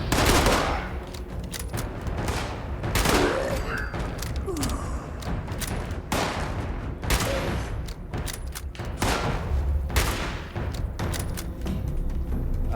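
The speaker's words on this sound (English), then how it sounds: "The hunting rifle does a lot of damage, but it's very slow." Hunting rifle fire in Fallout 76, loud sharp shots spaced a second or two apart with reverberant booms and mechanical clatter between them, close and dominant.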